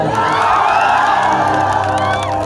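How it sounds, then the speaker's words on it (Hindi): A large crowd at a live Bhojpuri stage show cheers and whoops loudly, with scattered clapping blended into a dense, continuous roar of voices and shouts. "इसके लिए हल्ला करके ताली।"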